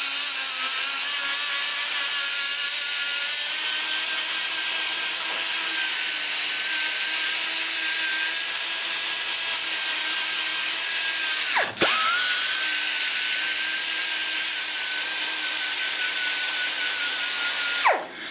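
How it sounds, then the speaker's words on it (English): A sanding roll on a high-speed die grinder works the combustion chambers of a Chevy TBI cylinder head, a loud continuous close whine that barely dips once midway before trailing off at the end. "I can usually take that one sand roll and get 4 combustion chambers done."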